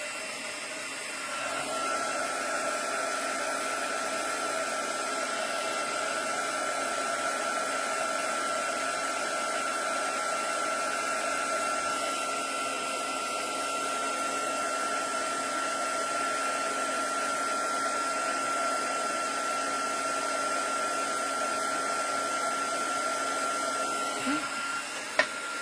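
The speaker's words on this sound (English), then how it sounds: "I'm going to come in and I'm going to heat emboss these" A heat embossing tool blows a steady, loud, fan-like whoosh for about twenty-five seconds while melting vintage beeswax embossing powder, starting and stopping abruptly.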